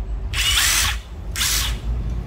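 A Hitachi 14V brushless cordless drill runs in hammer mode, giving two loud bursts of rapid rattling hammering about a second apart, close up, with no talking.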